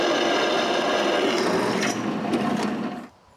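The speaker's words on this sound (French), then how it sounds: "Avant d'avoir des commentaires sur la vitesse de ma perceuse à colonne, il faut que je vous dise qu'elle est à sa plus basse vitesse" A drill press running at its lowest speed bores holes into wood in a workshop, giving a steady close grinding rasp that holds for about three seconds and then stops abruptly.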